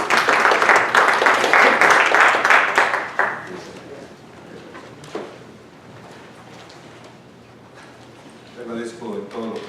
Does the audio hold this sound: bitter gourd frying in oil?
no